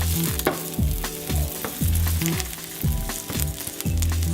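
Sliced almonds toast in butter in a pan while rice pilaf cooks, a close, busy sizzle with repeated scraping strokes of a spatula in a steady rhythm, no voices.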